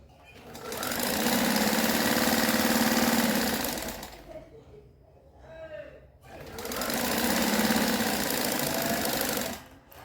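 A sewing machine stitches along a fabric strip in two long, loud, steady runs separated by a quieter pause with faint handling sounds.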